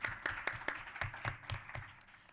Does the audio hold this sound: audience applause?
yes